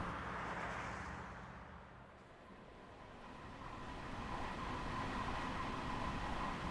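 Train sounds from the game Train Sim World 3 on the Harlem Line, a low rumbling roll of a passenger train with steady rail noise that dips briefly and swells again, fairly faint.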